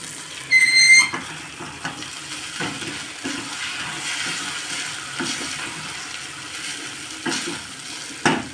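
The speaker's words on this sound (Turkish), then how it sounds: "Pilavın tuzunu da verdim. Şöyle güzelce kavuralım." Rice sizzles and hisses in a hot pot while being stir-fried with salt for pilaf, with scraping spoon sounds and a brief clatter near the start.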